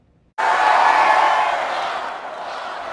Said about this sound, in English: Donald Trump drew a huge crowd in Mobile last August